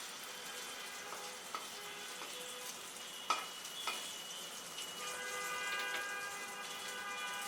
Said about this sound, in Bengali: এই ছোট ছোট করে ভেজে নিতে হবে এগুলোকে আর কি